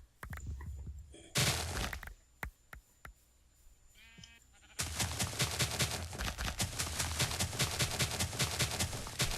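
Sheep bleating in the Minecraft FoolCraft modpack: a short bleat stands out amid sharp bursts of clattering game noise, followed by a long, loud, dense stretch of game sound.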